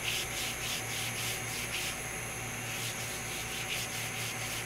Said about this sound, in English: So taking your hand, just rub back and forth.